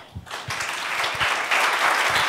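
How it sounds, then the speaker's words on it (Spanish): A church congregation claps together in a Spanish-language service, a dense steady applause that swells and stays loud, with a few heavier close claps near the start. "Denle un aplauso al Señor."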